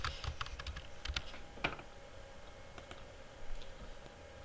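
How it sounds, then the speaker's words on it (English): A name being typed on a computer keyboard, a quiet close sequence of irregular key clicks in small bursts, followed by a few sparse taps, with no talking. "If I want to add a new name, double click on a blank line and type the name."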